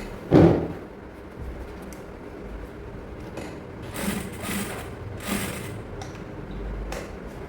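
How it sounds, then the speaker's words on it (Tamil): A sewing machine stitching elastic onto palazzo pants produces a dull thump, then a few short, faint whirring bursts separated by quiet handling. "இப்போ இந்த எலாஸ்டிக் மேலே தையல் போட்டுருவோம்"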